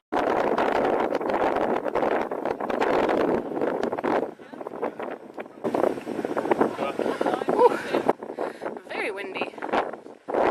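Strong wind buffets the microphone on a cliff top at Étretat, a roaring gusty rush that drops away briefly midway and returns. A person speaks over it.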